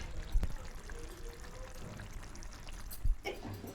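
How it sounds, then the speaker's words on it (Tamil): Beaten egg poured into an egg curry in a pan makes a soft, brief liquid pour over a low simmer, with a couple of light knocks against the pan, heard close. "இப்போ இந்த ஸ்டேஜில் முட்டையை வந்து ஊற்றிடலாம்"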